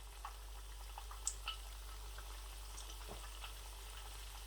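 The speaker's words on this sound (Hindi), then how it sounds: "ऐसे थोड़े थोड़े फासले पर मैं पकोड़े ऐड करूंगा कढ़ाई में।" Spinach pakoras fry in oil in a kadhai, giving a faint, soft bubbling sizzle over a low steady hum, with a few small pops.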